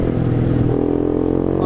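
A nearby motorcycle engine revs up during a night ride, its droning pitch rising steadily and staying loud throughout.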